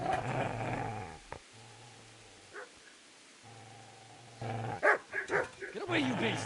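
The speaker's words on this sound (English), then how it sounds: "Get away, you mutt!" A dog in Kingdom Come: Deliverance growls low and barks in short bursts, close by, with a gap of quiet in the middle and a voice shouting over parts of it.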